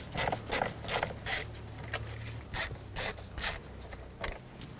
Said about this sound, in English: Now let's remove these 2 Phillips head screws that hold the clamshell cover for the steering column on.